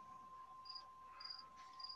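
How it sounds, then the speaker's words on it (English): Crickets chirp faintly around a house, soft intermittent trills over a steady electronic hum and low room noise. "All I hear is crickets. Sorry, that's from my house."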